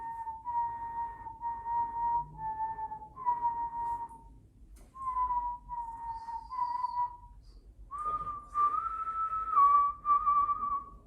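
A person whistles a melodic tune in clear sustained phrases with short pauses between them. The whistling is close and steady against a quiet background.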